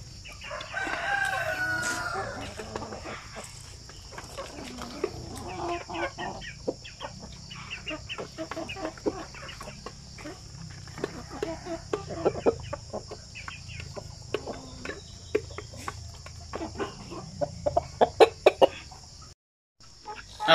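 Shamo and Aseel breeder roosters crow and cluck in a farm setting. There are scattered close clucks and sharp calls, with crowing early on and louder bursts toward the end, and no voices.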